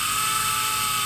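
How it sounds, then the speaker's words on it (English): A micro drill whines at a steady high pitch as it bores through a small piece of a Moomin model kit, loud and close for about a second. "All I do is take a micro drill and very carefully"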